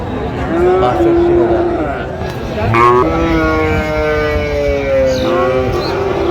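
Cattle low repeatedly at a busy market selling Friesian and crossbred bull calves in Dinajpur, long drawn moos rising and falling over a steady crowd murmur and nearby voices.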